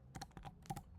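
Someone types on a computer keyboard in a brief burst of about eight quick, close keystrokes with an uneven rhythm and no voice.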